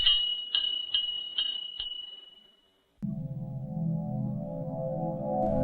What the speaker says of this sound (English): the bell on his shop door tinkled along with his laughter